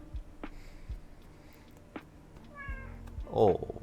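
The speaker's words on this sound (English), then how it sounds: "Kitty noises." A cat gives a couple of short meows near the end, close and fairly clear, following scattered clicks and a voice talking quietly earlier in the stretch.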